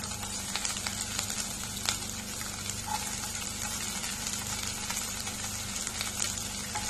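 Onions sizzle and fry in hot oil with garlic and cinnamon for a vegetable kurma, a steady close crackle and hiss with faint stirring and no voices.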